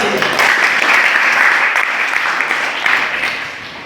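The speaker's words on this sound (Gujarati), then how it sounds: "ભાઈ માટે ફરીથી એકવાર તાળી થઈ જાય" A room full of people claps steadily for a participant at a leadership and habits training session, dense sustained applause filling the whole stretch and tapering slightly at the end.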